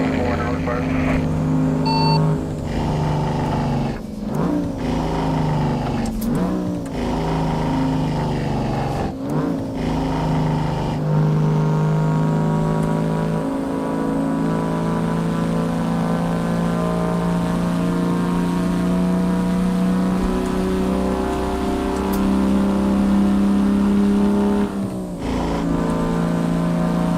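Truck engine pulling hard in American Truck Simulator, a loud steady diesel drone with shifting pitch and brief gear-change dips, unbroken throughout.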